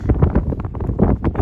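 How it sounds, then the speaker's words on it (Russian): Strong gusts of wind sweep across a snowy mountainside in Crimea in winter, buffeting the microphone with loud, continuous low rumbling and uneven surges throughout. "Так, спрячемся от ветра."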